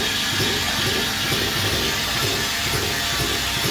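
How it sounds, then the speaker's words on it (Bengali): Steam hisses in a continuous, loud, broadband rush from a boiler line feeding the pans where rasgulla are boiled in a sweet factory, steady throughout with a faint mechanical rumble underneath. "এখান থেকে স্টিম চলে যাচ্ছে প্রত্যেকটা কড়াইয়ের নিচে"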